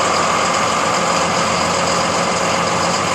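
A Ford F-650 truck with a dump body idles loud and steady on a cool 40-degree day while warming up, its diesel-like rumble continuous and close throughout.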